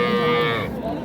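A young cow with her calf at a rural cattle market lets out one loud, close, drawn-out moo lasting most of a second, then fades into background market noise.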